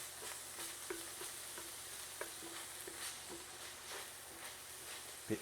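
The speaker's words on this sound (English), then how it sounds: "my ground beef is starting to brown" Ground beef sizzles softly as it browns in a pan beside sliced potatoes for hash, with a low steady frying hiss and intermittent spatula taps and scrapes, fairly quiet and close.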